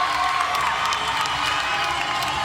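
Crowd cheering in Huff Hall at a gymnastics meet, a loud, sustained roar of shouts, whoops and scattered applause filling the arena without pause.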